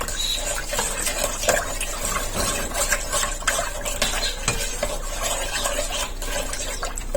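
Ingredients stirred in a cooking pot for a macaroni dish after salt and Chinese salt are added, with repeated close scraping and light metallic clinks at a steady pace, no talking.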